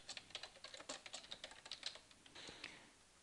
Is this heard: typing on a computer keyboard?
yes